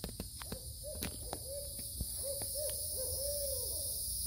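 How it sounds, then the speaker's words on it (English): An owl hoots repeatedly in woodland, a series of soft, wavering calls that stay moderately distant over a steady hiss of insects or wind, with a few sharp knocks near the start. "That was an owl"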